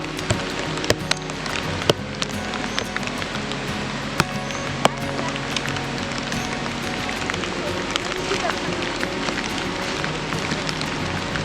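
Dense, steady monsoon rain roars throughout in a Konkan village, with scattered sharp drop impacts and occasional clatter; a voice is faintly audible at times underneath.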